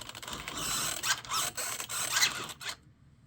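Stock servo on an SCX6 Honcho RC crawler whirring back and forth in quick buzzing bursts with a plastic mount flexing, close up, then abruptly going silent.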